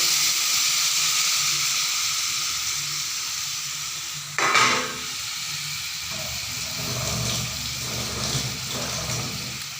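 Spice-washing water poured into a hot pan of prawns cooking with coconut, mustard and poppy seed, a steady close hiss and sizzle throughout with a sharper burst partway as the liquid hits.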